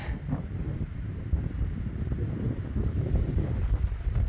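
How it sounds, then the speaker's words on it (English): Wind gusts across the summit of Chairback Mountain on the Appalachian Trail in Maine, giving a low, rumbling roar and buffeting against the microphone that builds steadily and stays close throughout. "A little breezy up here. I'll blow my hat off."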